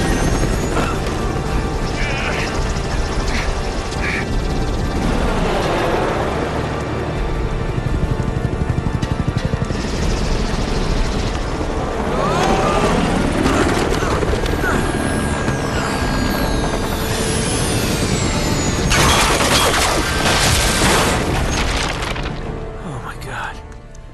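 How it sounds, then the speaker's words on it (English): A helicopter crashes in the video game Uncharted: Drake's Fortune, with loud rumbling, cracking impacts and crashing debris sustained over many seconds, and voices speaking throughout. "When Elena uses the distraction to crash the helicopter"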